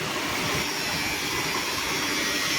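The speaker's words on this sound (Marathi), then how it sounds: "सगळं पंप बघा केवढं मोठं आणि बाहेरनं पाणी बाहेरच्या खाडीतलं पाणी इकडे आत येतात" A large water pump at a shrimp farm, drawing in water from an outside creek, gives off a loud, continuous roar close by and unbroken for the whole stretch.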